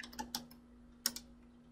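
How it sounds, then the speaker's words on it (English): Quiet keystrokes on a computer keyboard, a short burst of several taps followed by a pause and a couple more clicks, close and faint. "Go ahead and type it in."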